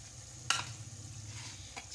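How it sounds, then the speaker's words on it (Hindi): Chicken pieces go into oily, cooked-down masala for achari chicken and fry with a sharp clatter and sizzle, then a soft steady frying hiss with one more brief scrape near the end. "अब इसके अंदर हम लोग चिकन ऐड करके उसको अच्छे तरीके से भूनेंगे"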